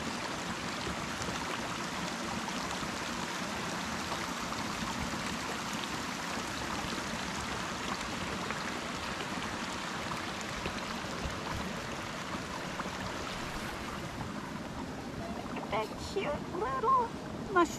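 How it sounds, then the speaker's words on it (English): Flowing water of the San Joaquin River in its gorge along a hiking trail, a steady broadband rush close by that holds level throughout, with a few brief higher splashes near the end. "Enjoy the sound of the water."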